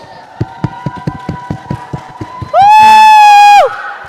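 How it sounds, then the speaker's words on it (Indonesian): Church audience at a youth Christmas service clapping in a quick run of sharp, close claps, then breaking into a loud burst of cheering and whooping for about a second before fading. "Kita berikan tepuk tangan untuk Kesya Boru Manalu."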